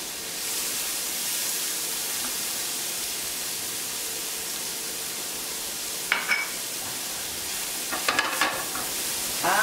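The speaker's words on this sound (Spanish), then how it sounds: "a freír nuestra cebolla" Onion frying in a pan for a seafood picante, a steady close hiss of sizzling with a few brief scraping stirs near the end.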